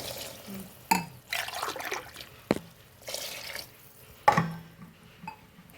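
Water is poured from a glass into a pot of soya pulao with yogurt, several separate splashy pours with short pauses between them, close and fairly quiet.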